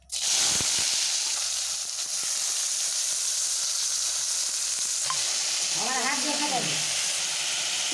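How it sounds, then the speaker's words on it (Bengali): Ridge gourd sizzles steadily in hot oil in a village-style kitchen pan, a continuous frying hiss throughout with occasional soft scrapes of stirring, plus a brief voice near the end. "এবার ঝিঙাটাকে হালকা ভেজে নেব।"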